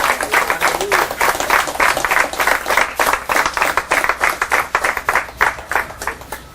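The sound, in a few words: congregation applause in church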